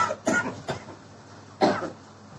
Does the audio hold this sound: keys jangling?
no